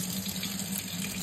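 Tap water running steadily into a kitchen sink while fresh thyme is rinsed, a brief continuous splashing stream close by.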